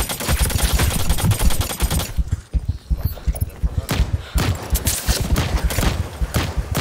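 Rapid bursts of gunfire from The Cycle Frontier video game, dense volleys with a short lull midway, then more shots and sharp impacts, loud and close.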